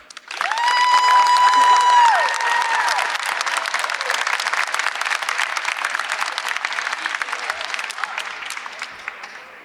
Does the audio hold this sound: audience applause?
yes